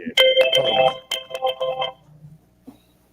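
A phone ringtone from an unknown caller plays as a bright repeating melodic tone in several bursts, close and clear, then stops abruptly, leaving faint room noise and a small knock near the end.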